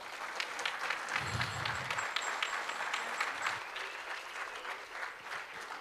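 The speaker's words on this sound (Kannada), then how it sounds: "ಅವರಿಗೆ ಜೋರಾದ ಚಪ್ಪಾಳೆ." An audience at a Yakshagana performance claps steadily, a full and fairly distant wash of applause with a low thump or two near the start and a faint tone hanging above it.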